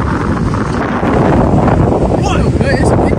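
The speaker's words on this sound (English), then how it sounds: "It's windy, but it feels good." Strong wind buffeting the microphone in loud rumbling gusts, with a few faint voices briefly audible beneath it.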